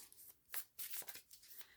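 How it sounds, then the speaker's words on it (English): Tarot cards are shuffled in quick, soft riffling bursts of crisp papery flutter, close but quiet, with no speech. "So, just going to give these a shuffle."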